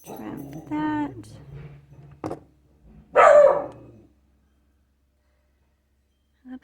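Puppies barking indoors, upset by road work going on outside, with a couple of sharp bursts standing out against quieter household sounds and a little talking.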